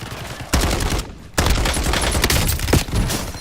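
Call of Duty Warzone gunfire rattles in close, loud bursts of rapid automatic shots, broken by a brief pause before the firing resumes in dense, overlapping volleys.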